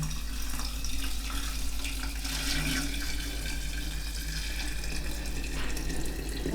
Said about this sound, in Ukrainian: Наливаю повну банку води